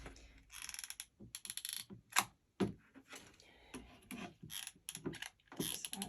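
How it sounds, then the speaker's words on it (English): A staple gun drives staples into wood for a door wreath hanger, giving quiet mechanical clicks and a couple of sharp snaps among soft rustling and handling noises. "with the staple gun, you want to push down really hard so it gets all the way into the wood"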